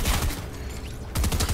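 Bursts of gunfire in the video game Fortnite, a loud rattling volley, then a quieter stretch, then a second dense burst near the end.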